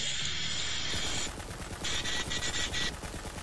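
Rapid turret gunfire in the video game Borderlands, a loud dense burst that drops off, then returns in several choppy bursts, with no talk over it.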